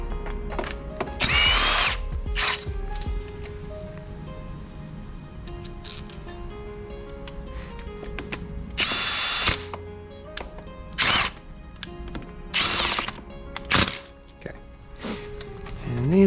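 A power drill runs bolts down on the rear shell of an NB Miata six-speed transmission, in several short whirring bursts separated by pauses with metallic clinks and handling noises.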